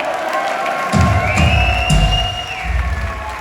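A concert crowd at Kafe Antzokia in Bilbao cheers and shouts loudly, a dense roar of voices with whistling tones that swells after the first second and holds steady.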